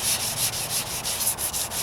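Wet sanding of rattle-can white paint on a 1998 Toyota Corolla hood, a steady rhythmic rubbing with regular back-and-forth strokes roughly every quarter second, close and continuous with no talk.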